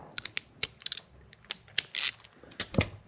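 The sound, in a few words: ratchet loosening 10 mm bolt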